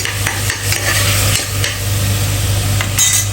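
A salted curry mixture is stirred and roasted in a pan, giving a steady close sizzle with scraping strokes from a spoon running through it, loud and continuous with no voices.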